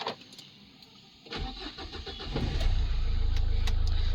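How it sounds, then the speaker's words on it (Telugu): A 2013/14 Nissan Micra XL diesel car cranks briefly and catches, then settles into a steady, rumbling diesel idle, heard close with no talk. "వెహికల్ అయితే స్టార్ట్ చేస్తున్నానండి."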